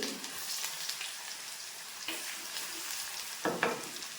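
Ginger and garlic frying in hot oil for a Kerala sardine curry, a soft steady sizzle with a few louder crackles and pops near the end, close by and with no talk.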